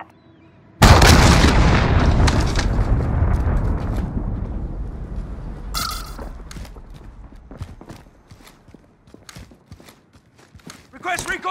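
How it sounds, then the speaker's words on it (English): A cruise missile strike in Call of Duty: Modern Warfare lands with a sudden loud explosion, then a long rumbling roar that slowly fades, followed by scattered gunshots and smaller bursts. "Allied cruise missile away"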